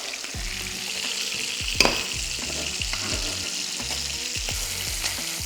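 Scallops and chorizo fry in spiced oil in a pan, a steady close sizzle with repeated low scraping or stirring strokes and one sharper clatter near the start, with no voices.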